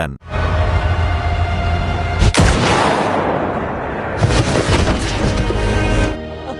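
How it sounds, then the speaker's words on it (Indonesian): A sniper rifle shot in an action film, fired from long range, cracks sharply once near the middle amid a loud, dense cinematic soundscape with heavy rumble and sustained noise throughout. "Jenny bergegas mengambil senjatanya untuk menembak Adrian dari jarak jauh"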